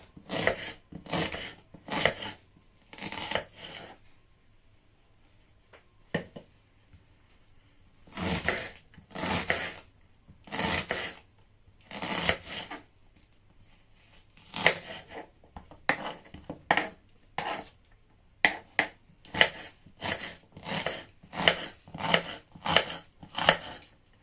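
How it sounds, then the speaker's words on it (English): A knife chops onions on a board for jollof rice, in quick bursts of sharp, close taps separated by brief pauses, with no talking. "I'm going to cut my onions"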